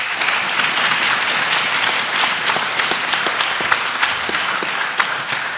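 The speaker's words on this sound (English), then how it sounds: "Please give everyone a round of applause." Steady, sustained applause from a forum audience thanking a panel, dense clapping filling the space evenly throughout with a few sharper individual claps standing out.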